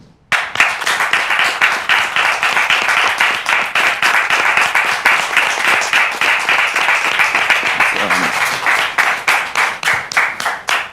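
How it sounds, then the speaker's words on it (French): A studio audience at a Christian talk show gives sustained, loud applause, a dense clapping crowd that soon falls into a steady rhythmic beat of synchronized claps lasting around ten seconds. "je voudrais, le public, vous demander de le recevoir avec des applaudissements nourris"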